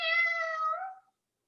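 A person imitates a cat's meow during a live Pilates class: a single drawn-out, tonal meow lasting about a second, clear and close, followed by silence.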